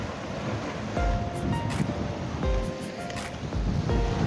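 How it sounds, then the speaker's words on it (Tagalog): Surf washing onto a shore in Abu Dhabi on a breezy morning, a steady broadband roar of waves with gusty wind buffeting the microphone and a few faint higher tones drifting through. "maganda ang dagat. Medyo may hangin pero nakadali pa rin."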